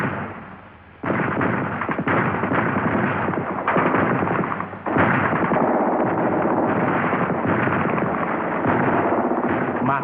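Ambush fire in dense jungle and swamp during the war in Portuguese Guinea, with gunshots and mortar grenade blasts forming a loud, continuous, dense barrage after a brief quieter opening, without clearly separate individual shots.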